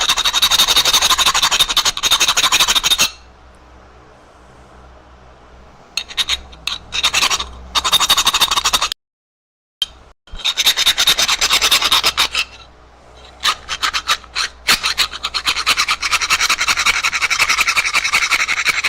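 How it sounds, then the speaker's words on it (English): A hand rasp files away at material in a garage: long, loud scraping strokes in steady back-and-forth bursts, broken by a few short pauses. "It's not really a file. Is more of a rasp. But is it moving material?"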